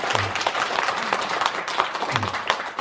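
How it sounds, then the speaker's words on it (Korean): A gathering at a Buddhist temple's Enlightenment Day service claps briefly, a short burst of moderately loud, uneven applause lasting under three seconds, with a low voice murmuring underneath. "박수 칠까요?"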